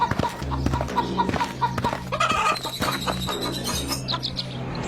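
Chickens being carried off in a rural village, with repeated clucks and short calls over a steady low hum, fairly close and continuous throughout.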